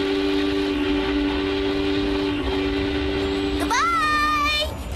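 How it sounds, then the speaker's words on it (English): A cartoon train in the Funky Fables telling of Heidi rumbles on steadily as a two-tone whistle sounds, then the pitch slides upward and the whistle warbles as it pulls away, loud and close. "This train stops at Munich, Geneva, Cucamonga, and Heidi's grandpa's cottage."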